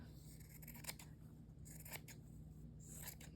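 Scissors cutting fabric at a quiet crafting desk, several short crisp snips and slicing rasps in uneven bursts, faint and close.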